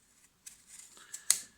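A few quiet snips of Leatherman Raptor multitool shears cutting through material, ending in one sharper, louder crisp cut near the end.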